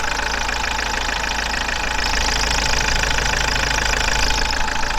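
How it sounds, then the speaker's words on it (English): A van's engine idles steadily throughout, a dense, even mechanical drone with a faint knocking texture, close and continuous with no breaks or talk. "Just thought I'd let the engine run for a second."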